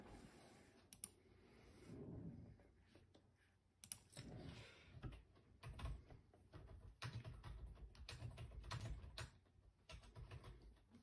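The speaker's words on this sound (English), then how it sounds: "Typing with gloves is not the easiest thing" Gloved fingers type on a computer keyboard in quiet, irregular bursts of soft clicks and taps that stop and start over about eleven seconds, with no speech.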